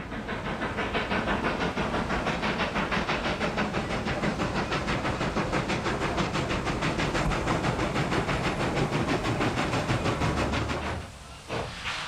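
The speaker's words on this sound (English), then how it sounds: "At 7th Street, a brand new GS4 puts on a good show as it leaves town." A brand new Southern Pacific GS4 steam locomotive leaves town at 7th Street, its loud continuous hiss of steam and rapid chuffing filling the air before dropping off abruptly near the end.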